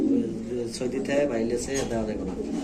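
A young Maxi Mundian pigeon coos in soft repeated low calls close by, mixed with human voices.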